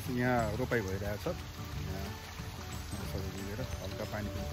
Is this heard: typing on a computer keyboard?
no